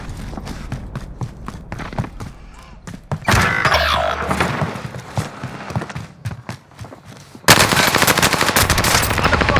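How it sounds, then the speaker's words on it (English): Automatic gunfire in Call of Duty: Warzone on Rebirth Island: rapid bursts of loud, close rifle fire interrupted by footsteps and movement, ending in a sustained heavy volley. "Contact! Shooting at me!"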